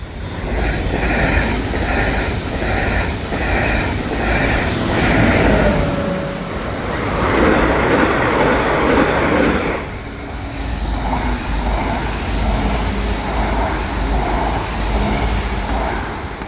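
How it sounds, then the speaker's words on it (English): A train passes close by with a steady loud rumble and rhythmic clacking of wheels over rail joints. "it's packed with local trains, regional trains, trains going long distances, and also freight trains"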